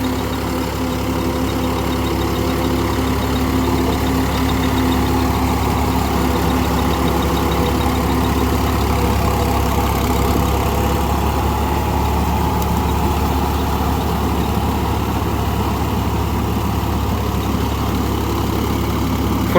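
Mahindra Yuvo 475 DI tractor, a 44 HP model, runs steadily while puddling a field, its engine producing a loud, continuous low drone with a constant rumble throughout and no talk over it.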